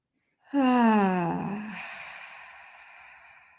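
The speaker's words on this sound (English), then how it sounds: "Take another deep breath" A single deep inhale followed by a long, slow, audible exhale, close and clear against silence, like a relaxed sigh during a calming breathing moment.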